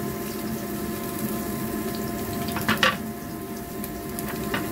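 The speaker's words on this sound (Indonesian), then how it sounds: "saya akan tumis dulu bawang putih sama jahenya ya" Garlic and ginger sautéing in hot oil for a meatless diet vegetable dish, giving a steady, close sizzling hiss with a few brief spattering pops and no talking.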